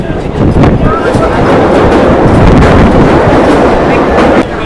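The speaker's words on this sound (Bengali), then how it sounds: "কাজীপাড়া স্টেশনের এক নম্বর প্ল্যাটফর্মে ঢুকছে মাঝেরহাট হাসনাবাদ লোকাল" A Majerhat–Hasnabad local train pulls into a platform at Kazipara station, a loud close rumble and clatter of wagons rolling past continuously.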